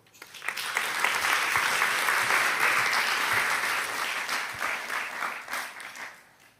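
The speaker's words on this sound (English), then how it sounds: "let's give a round of applause to welcome our next panel" Audience applause at a youth summit in Brussels, welcoming a panel onto the stage: a sustained, dense round of clapping from a large crowd that swells quickly, holds steady for several seconds and then thins out near the end.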